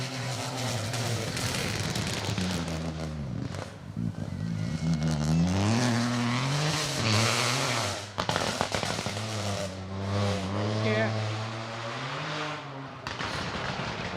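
Rally cars tear through an asphalt stage of the Jim Clark Rally, engines revving loud and close with rising and falling pitch over about fourteen seconds, punctuated by crackling pops; a brief spoken word sits under the roar.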